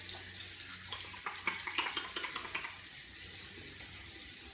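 Water from a tap runs steadily over wet hands, with a soft continuous hiss and a few brief splashes as the hands move under the flow, close up.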